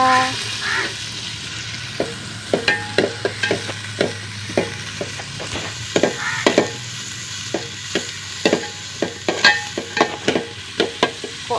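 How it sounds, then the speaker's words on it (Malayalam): Large onions frying in an oil-filled pan, a steady sizzle under frequent sharp clicks and scrapes of a spatula stirring against the pan, close and fairly loud, without speech. "വലിയ ഉള്ളി എടുത്ത് കൊണ്ടുപോയി ഈ ചട്ടിയിലിട്ടു"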